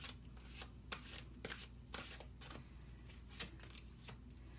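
Tarot cards are shuffled close by, quiet soft riffling flicks repeating in short bursts over a faint steady background hum, with no talking.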